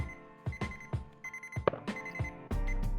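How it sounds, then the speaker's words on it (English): A kitchen timer beeps repeatedly while pumpkin bars bake, bright electronic chirps in an uneven rhythm with clatter from handling the device, ending in a sustained steady tone. "I'll turn off the timer and check it and see if we're good"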